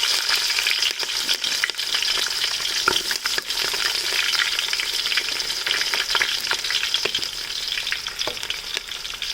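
Green chillies and onions crackle in hot oil along with mustard seeds, a loud dense sizzle with rapid popping and spitting and a few stirring knocks.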